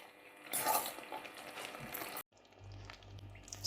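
A spoon stirs a thickening toffee mass in a saucepan over medium-low heat, giving soft scraping and bubbling that is fairly faint, briefly cut off, then followed by a low hum.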